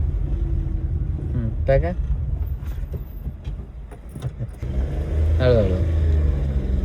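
A learner's car idling and pulling away while the driver shifts into second gear, a steady low engine rumble with a rising rev near the end, under close instructional talk.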